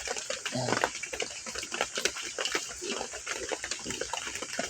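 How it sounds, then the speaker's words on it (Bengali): Rainwater falls and drips steadily during a rainy spell, a dense, continuous patter and splash with irregular heavier drops, fairly close and moderately loud throughout. "শুধু ঝামেলায় দেখেন টপ টপ করে পানি পড়তেই থাকে, পানি পড়তে থাকে।"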